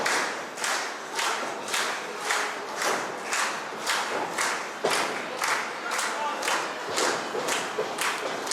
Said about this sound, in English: you hear the ovation from the crowd